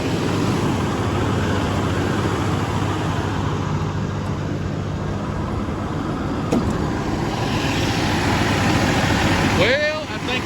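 A truck engine idles at a raised idle, a smooth, steady, loud rumble that holds constant throughout, with someone speaking briefly near the end.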